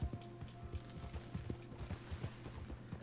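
A White Arabian horse walks in Red Dead Redemption 2, its hooves clip-clopping in a steady, even rhythm. The footfalls are soft and close, with a faint mechanical creak underneath.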